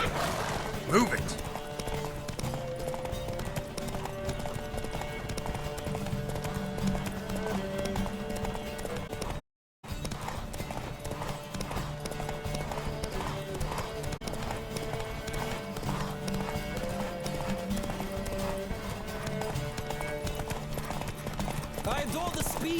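Horse hooves clip-clop rapidly in a Witcher 3 video game race, with neighs and whinnies over a continuous bed of game music; the galloping runs on steadily apart from a brief dropout.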